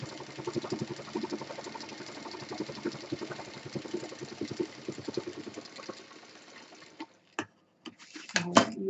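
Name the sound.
sewing machine stitching a bag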